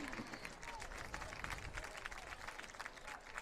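High school football crowd applauding an injured player limping off the field, a continuous patter of clapping at a distance with an announcer's voice talking over it.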